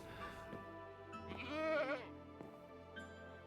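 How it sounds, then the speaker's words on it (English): A goat bleats in the Minecraft game, a single wavering, nasal cry near the middle, fairly close over quiet ambience, with short sharp clicks around it. "There's even a goat here."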